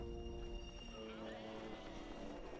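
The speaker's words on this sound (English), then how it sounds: "Let's send in the goats." War goats charge in the Age of the Ring mod, a rapid drumming of many hooves with bleating and whinny-like cries, steady and dense throughout over a faint game music bed.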